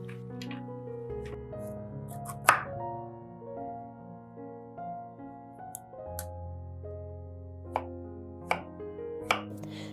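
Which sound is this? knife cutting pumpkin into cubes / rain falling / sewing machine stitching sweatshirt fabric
knife cutting pumpkin into cubes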